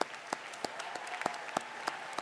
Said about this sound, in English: Let's just give them an applause as they're coming to the stage.